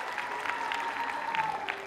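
A festival crowd breaks into loud, sustained applause, a dense steady clatter of many hands clapping together at close range.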